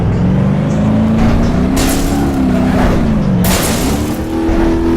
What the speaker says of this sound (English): Now this is what the inline 4 would sound like.